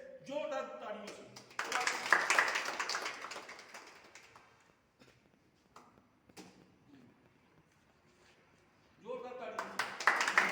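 Enthusiastic applause from a gathered crowd of workers at a union welcoming event, a dense clattering burst that fades into quiet, then swells again at the end, with a voice speaking before it.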